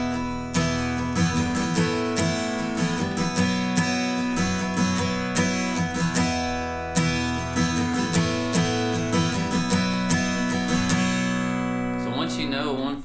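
Acoustic guitar strumming a 1-4-5 chord progression in a lively, even rhythm of repeated strums, loud and close, with a brief pause midway before the chords ring out at the end.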